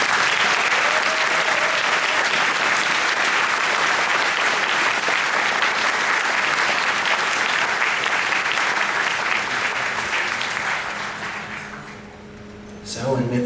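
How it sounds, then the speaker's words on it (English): An audience at the Eurofurence 28 opening ceremony applauds in a sustained, dense wash of clapping that carries on for several seconds before fading, with a voice speaking briefly as it dies down. "So please applaud."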